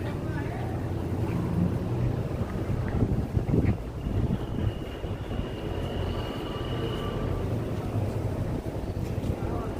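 Strong wind buffets the microphone in low rumbling gusts outside a Miqat mosque, with a faint voice and distant background noise underneath.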